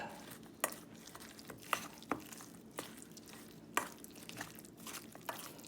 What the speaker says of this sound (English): I think the next step is to mix it all up.